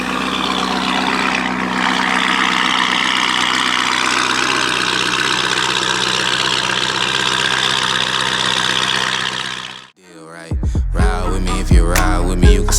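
Sports cars, including a purple Lamborghini Huracán STO and a green Urus, idle at a cars and coffee meet with a loud, steady low engine drone for about ten seconds before it cuts off abruptly and music takes over.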